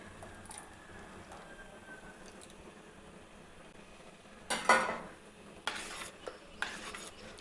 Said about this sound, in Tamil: கரண்டி வச்சு கலந்து விட்டுக்கலாம்